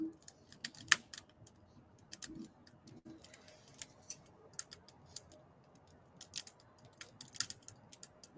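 Sparse, irregular light clicks of typing, probably on a phone or keyboard, outdoors on a cold night, faint and close against a low background hum with no talk.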